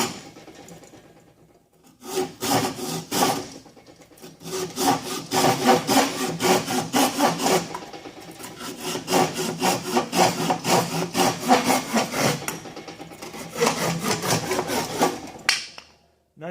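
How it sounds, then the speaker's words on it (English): A Wicked Tree Gear Wicked Tough large-tooth hand saw cuts through wood in fast, rhythmic rasping strokes. It runs in several close, loud bursts with brief pauses, and no one speaks. "this is again the Wicked Tree Gear Wicked Tough handsaw."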